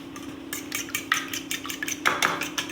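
Egg frying in hot oil in a pan, a faint sizzle under a series of sharp metallic clinks and scrapes from a utensil against the pan.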